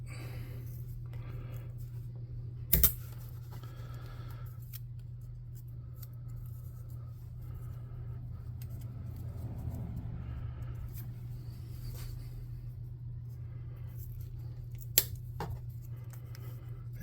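Scissors snipping strips for model railroad tracks in a quiet room, with soft rubbing and rustling over a steady low hum, and a couple of sharp, close clicks standing out against it.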